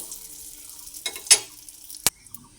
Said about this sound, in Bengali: আমি এর মধ্যে একটা তেজপাতাতে দিয়ে দিলাম ভাজা হয়ে গেল